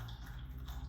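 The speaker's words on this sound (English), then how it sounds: "let's pour in some hot water around like" Hot water at about 92 degrees poured onto puerh tea, giving a soft continuous trickling splash, faint and close, with no voices.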